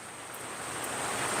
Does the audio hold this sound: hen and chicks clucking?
no